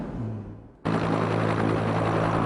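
Two army helicopters hovering in place for night rocket firing at a range, a loud steady rotor and engine roar that cuts in abruptly after a quieter fading start and holds continuous.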